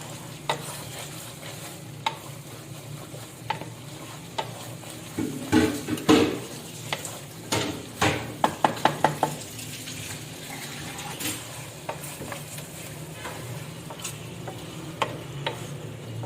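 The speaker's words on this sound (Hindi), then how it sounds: "मैंने भुनाई कर लिया है सही तरह बीफ को" Beef karahi stir-fried in a pan, with a steady low sizzle under repeated scraping and clattering strokes of a utensil against the pan, clustered in short bursts.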